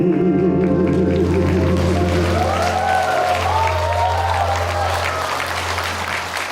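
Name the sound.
audience applause after a song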